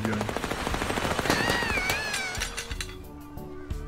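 Rapid machine gun fire in the video game Little Misfortune, a fast dense rattle of shots that tapers off, heard up close with a bit of talking over it.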